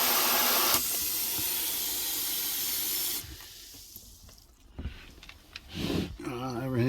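A loud, broad spray of water from a newly installed Arctic Fox kitchen faucet's sprayer mode hisses for a few seconds, then cuts off, leaving quieter splashes, clatter and a voice speaking near the end.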